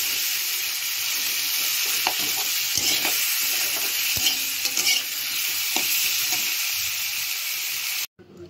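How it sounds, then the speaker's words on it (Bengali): Green chili and potatoes fry in a pan with a steady, close sizzle and a few stirring scrapes, continuous for several seconds before cutting off abruptly near the end. "লঙ্কাটাও দিয়ে দিয়েছি, এবার ভাজা ভাজা করে নিই।"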